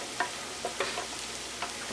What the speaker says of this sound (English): I'm about to get everything mixed up.